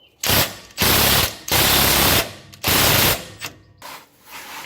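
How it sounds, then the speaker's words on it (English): Half-inch ratchet working loose a rear shock absorber bolt on a 1971 Oldsmobile 98: four long, loud bursts of rapid pawl clicking, each lasting about half a second, separated by brief pauses and trailing into lighter clicks. "I had to go to my 1/2-inch ratchet."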